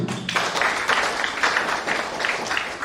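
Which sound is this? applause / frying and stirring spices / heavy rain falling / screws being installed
applause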